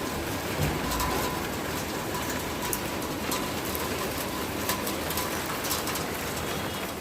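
Steady rain hisses throughout, with a few scattered bird calls in the background and no talking.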